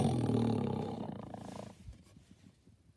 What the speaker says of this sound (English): This is a tiger.